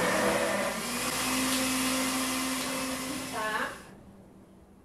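A blender whirs loudly and steadily while blending bacon mayonnaise made without eggs, its motor pitch dipping briefly before cutting off abruptly near the end, with a short spoken word over it.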